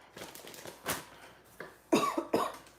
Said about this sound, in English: I'm coughing because y'all see I'm coughing